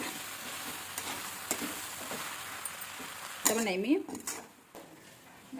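A pan of frying mixture with turmeric being stirred in for Rayalaseema puffed-rice uggani, giving a steady soft sizzle with scraping stirring strokes that grow louder near the end.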